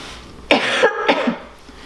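A person coughs twice in quick succession, close and fairly loud, with quiet room noise before and after.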